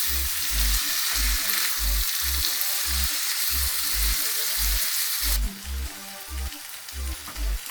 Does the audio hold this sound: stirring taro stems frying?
yes